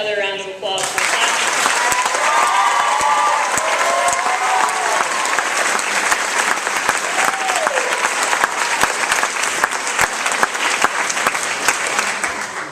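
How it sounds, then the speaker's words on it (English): A high school graduation crowd applauds, with sustained, loud, dense clapping and scattered cheers filling the hall from start to finish. "Let's have another round of applause for class."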